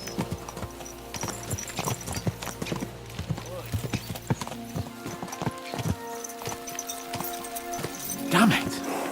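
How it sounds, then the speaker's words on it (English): Horses gallop in Kingdom Come: Deliverance II with rapid, steady clip-clop hoofbeats close by, a brief whinny near the end, and a voice talking over the ride. "Let's really spur these horses on, eh?"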